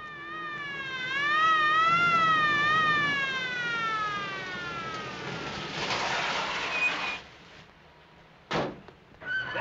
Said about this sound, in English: Did you hear that siren?